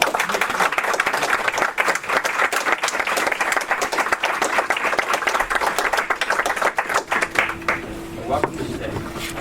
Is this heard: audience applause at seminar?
yes